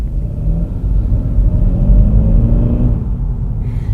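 A Seat Ibiza Cupra accelerates hard from a standstill, its engine rumbling loud and close with a deep drone rising in pitch, then easing off near the end.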